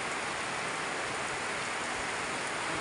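Very heavy rain pouring down steadily on roofs between closely packed houses, a dense unbroken wash of noise with no talk.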